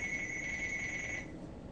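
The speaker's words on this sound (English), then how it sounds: "phone ringing again" A phone rings with a steady electronic tone for just over a second, then cuts off, faint beneath a quiet room hum.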